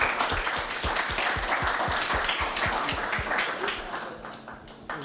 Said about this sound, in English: Please give a warm round of applause for our guests.